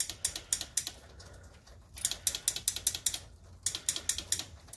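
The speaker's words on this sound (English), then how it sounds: "it's clicking the solenoid" Quick bursts of sharp mechanical clicking from a Yamaha Warrior motorcycle's starter solenoid, three rapid rattling runs with brief pauses between them, close and fairly loud, no voices.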